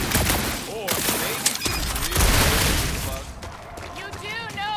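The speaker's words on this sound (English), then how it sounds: "You do know that aimless shooting isn't gonna scare the monsters away, right?" Video game gunfire from Marvel's Guardians of the Galaxy crackles in quick bursts amid a busy, loud mix of combat effects and voices talking, with sharp shots clustered near the start and middle.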